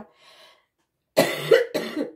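A couple of harsh coughs from someone who is ill, close and fairly loud, the first a double burst, after a moment of quiet with a faint murmur.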